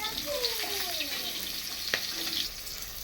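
Oil sizzles and crackles continuously as pointed gourd fries in a pan, with faint clinks and a brief scrape partway through.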